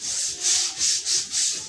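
Spices are ground by hand for cooking, producing close rhythmic rubbing and scraping strokes, about five back-and-forth passes in quick succession with no voices.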